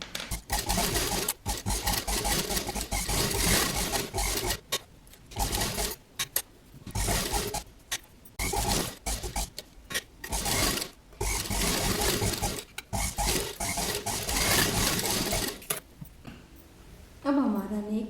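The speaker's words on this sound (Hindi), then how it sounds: "और अब हम इस पर सिलाई लगा लेंगे।" A sewing machine stitches a curved kurta neckline in continuous close whirring runs, stopping and restarting several times, with a short pause near the end.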